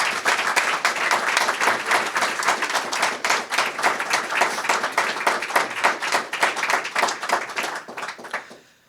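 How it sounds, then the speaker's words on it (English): A press conference audience at a downtown hotel and conference center breaks into sustained applause, many hands clapping densely and evenly for several seconds before fading out at the end. "Can we have a big round of applause for this team?"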